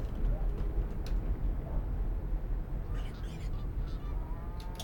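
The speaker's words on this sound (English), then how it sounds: "Oh, and some geese apparently." Geese honking in the Fernbus Coach Simulator game, a few short calls rising over a steady low engine rumble from a VDL double-decker coach.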